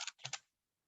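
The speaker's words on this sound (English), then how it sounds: "you can start typing it in here" Keys on a computer keyboard are tapped in a short, quick burst of about four crisp clicks, close and fairly quiet, after which the sound stops into silence.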